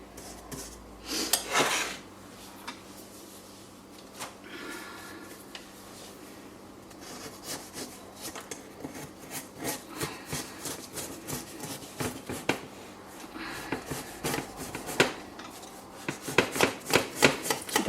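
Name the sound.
trimming the edges of a custard tart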